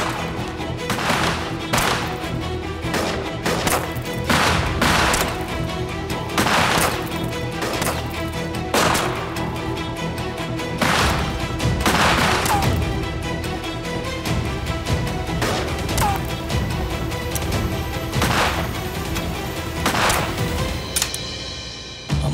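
Rapid gunfire in a shootout from a historical Ottoman-era TV drama, with sharp repeated shots in irregular bursts over a dense music and effects bed, loud and continuous throughout.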